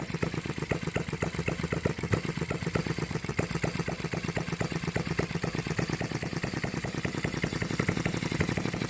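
A small HM-01 model engine runs steadily close by, a fast, even stream of clattering firing pulses with a buzzy mechanical hum, continuous and fairly loud with no voices.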